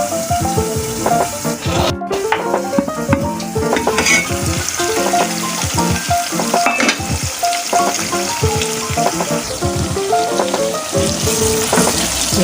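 Tomatoes frying in a covered pan for a kidney bean and lobia curry give a steady, close sizzle with scattered stirring and scraping clatter throughout.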